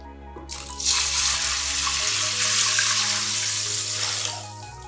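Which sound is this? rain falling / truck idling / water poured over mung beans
water poured over mung beans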